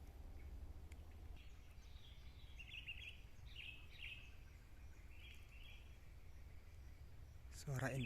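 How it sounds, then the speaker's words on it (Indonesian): Parent kerucuk bulbuls give repeated agitated chirping calls from a little distance over a steady low background hum, with a brief rustle near the end. "Suara indukan kerucuk gelisang lagi"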